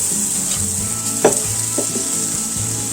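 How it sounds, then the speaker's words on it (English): Pork roast drippings with bits of pork stirred into a hot pan for smothered pork chops, a steady close sizzle with soft scraping stirs and a light clink of the utensil. "Stir that in"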